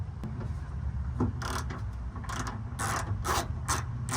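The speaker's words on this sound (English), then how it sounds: "An 8mm to get off these bolts, as you can see here." An 8mm ratchet wrench loosens the bolts holding a car's rear spoiler, with rapid repeated ratcheting clicks in short bursts, close and clear, with no speech.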